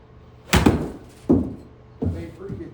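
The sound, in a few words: golf club hitting ball, 50-degree wedge shot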